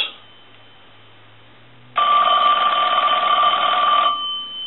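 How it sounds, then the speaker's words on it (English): A Western Electric Princess Touch Tone telephone bell rings in one sustained burst of about two seconds after a brief quiet start, loud and close, with no talking. "I want to go ahead and ring the telephone."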